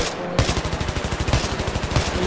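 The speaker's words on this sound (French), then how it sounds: "Moi j'ai encore le la machine gun." A machine gun fires in Battlefield 3, rattling out a rapid, steady burst of close, loud shots that runs without pause for about two seconds after a brief lull.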